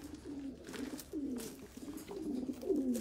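Racing pigeons at a Barcelona pigeon-sport loft coo in low, repeated rolling phrases, several overlapping birds close by with faint rustling, no talk.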